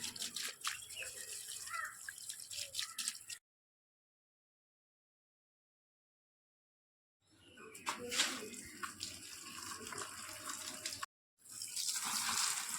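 Water splashes steadily onto a bougainvillea and other garden plants in an evening home garden, a continuous broadband wash broken by a long silent gap, then resuming loud and close.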